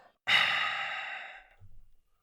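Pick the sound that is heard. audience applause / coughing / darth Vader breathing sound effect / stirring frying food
darth Vader breathing sound effect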